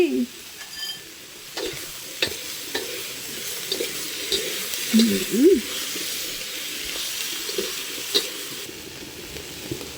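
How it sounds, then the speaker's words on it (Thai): Pork and yardlong beans stir-fry in red curry paste, a soft continuous sizzle broken by scraping spatula strokes and occasional clinks, close and moderately quiet, with no one speaking. "ก็ใส่ถั่วฝักยาวลงไปเลยค่ะ"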